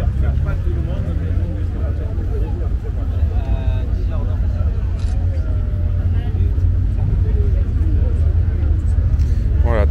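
A historic Citroën DS rally car drives off during the Monte Carlo historic rally, its loud, steady engine rumble continuous and close under crowd chatter and nearby talk.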